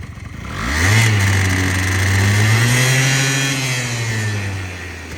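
A cold Honda Dio FIT AF-27 two-stroke scooter engine revs up and holds a steady buzzing drone, rising and falling slightly in pitch, close by with no talk.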